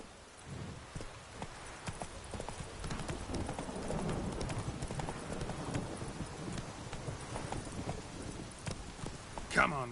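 Roach, the horse in The Witcher 3, gallops with a fast, steady run of hoofbeats over in-game ambience and music, someone speaking briefly over the ride.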